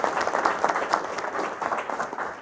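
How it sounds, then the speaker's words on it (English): A conference audience at an arms-control-in-outer-space event applauds its panelists with steady, dense clapping from many hands for a couple of seconds. "If I could prompt you all to thank our panelists quickly. Round of applause."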